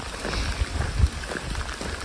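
Steady rain falling through a forest along the Camino de Santiago in Galicia, a continuous soft patter and hiss close around with a few heavier drops, no talking.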